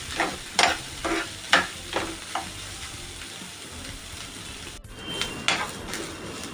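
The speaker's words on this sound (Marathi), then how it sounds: "कांदा पण मस्त असा भाजून घ्यायचा आहे तेलामध्ये गोल्डन ब्राऊन होईपर्यंत" Sliced onion frying in oil in a pan, a continuous sizzle broken by several louder scraping stirs and clinks of a utensil against the pan, no talking.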